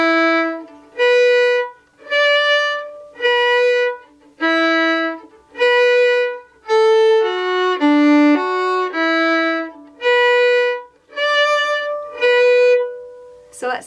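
A fiddle plays the opening measures of the Irish reel Drowsy Maggie, a clear, close line of separate bowed notes at a moderate, even pace with no voices over it.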